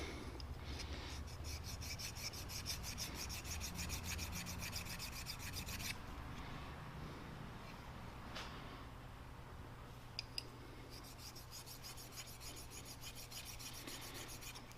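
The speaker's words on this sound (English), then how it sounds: "I'm just going to do a little bit of honing on this thing." A drill bit's cutting edge is honed with steady, quiet rasping strokes against a sharpening surface, continuous and close with a brief pause midway and a couple of faint clicks.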